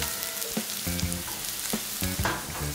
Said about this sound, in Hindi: इसको अच्छा सा टॉस करते हैं